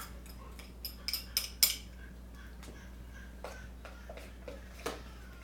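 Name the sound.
mixing parsley, garlic and spices into manicotti filling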